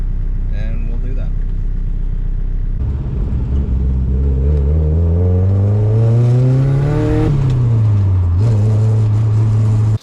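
A BMW E30 drives steadily, its engine droning loud and close, with the pitch rising as it accelerates, easing off, then holding at a steady cruise.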